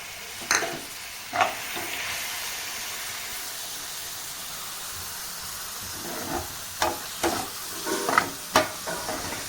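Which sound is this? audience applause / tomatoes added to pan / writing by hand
tomatoes added to pan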